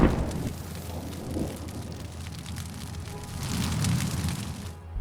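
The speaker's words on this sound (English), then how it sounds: "Upon impact, it bursts into flames." A drone-dropped munition explodes on impact against a military SUV during a Russian tank offensive in Ukraine, producing a sustained roaring, crackling rumble with a swell of burning noise near the end.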